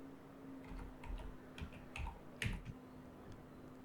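Someone types on a computer keyboard on a Windows PC, a short quiet run of light, irregular key clicks. A steady low electrical hum sits underneath and no voice is heard.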